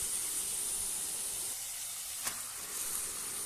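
Chicken gizzards dropped into hot, oily, well-fried masala for a spicy Bengali gizzard curry, giving a steady close hiss and sizzle that runs unbroken throughout, with a faint tap partway through and no talking.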